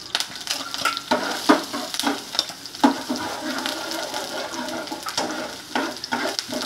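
Ginger frying in hot oil in a small pan, a busy close sizzle broken by frequent clinks and scrapes of a spoon or spatula against the metal, with no voices.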